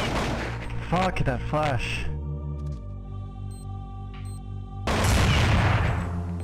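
Gunshots ring out in a competitive Counter-Strike 1.6 match as loud dense bursts at the start and the end. A steady ringing tone and a voice come between them.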